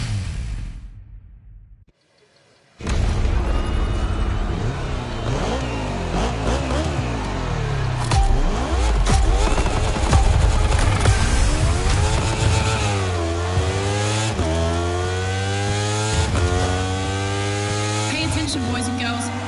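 Motorcycle racing engines in The Crew Motorfest on PlayStation 5, a Red Bull moto time-attack event: after a brief pause, loud close engines rev and rise through the gears with repeated upward sweeps, a steady high whine throughout.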